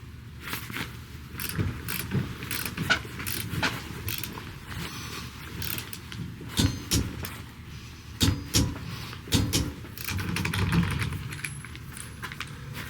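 A torque wrench tightens car lug nuts, with repeated close clicks, creaks and ratcheting bursts at uneven intervals and some metallic jangling in between, with no voices.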